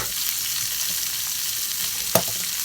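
Red cabbage sautéing in a pan gives a steady, close, even sizzle, with one sharp clink of utensil on pan near the end and no talking.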